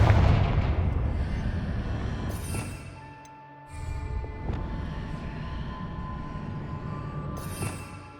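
A Confringo fire spell blasts in Hogwarts Legacy at Rookwood Castle, a loud rumbling explosive burst with sharp cracks and a sustained roar that dips briefly and then swells again.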